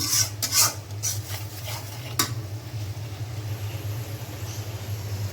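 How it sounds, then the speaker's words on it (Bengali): Spice masala of garlic paste, salt, turmeric, chilli powder and cumin fries in a pan, with a spoon scraping and stirring in quick strokes early on over a constant low hum, then settling into a softer steady sizzle. "মশলাটা একটু কষিয়ে নিই"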